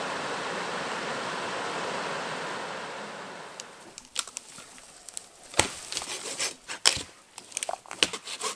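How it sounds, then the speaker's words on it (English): Rushing water from a small waterfall by a lake, heard from a canoe, roars steadily and then fades away, leaving scattered knocks and wooden clatter close by. "found a beautiful little waterfall"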